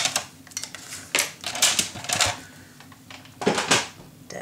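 Scissors cut away excess patterned paper while a scrapbook journal pocket is made. Several crisp snipping bursts come close to the mic, irregularly spaced, with brief pauses between cuts and no speech.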